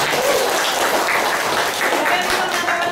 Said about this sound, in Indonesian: Beri tepuk tangan untuk Pak